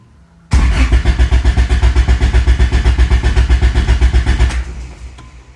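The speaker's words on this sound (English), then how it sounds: "And so the car should start now." A Honda Integra GSR engine cranks with a rapid, even chatter of starter pulses, fires after an injector tune, and settles down at the end, loud and close with no talking.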